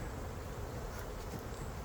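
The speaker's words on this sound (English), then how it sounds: "Still got a few bees on there, but they'll leave and fly back to the hive." A steady, dense buzzing of honeybees at a hive during an inspection fills the air throughout, close and continuous with no pauses.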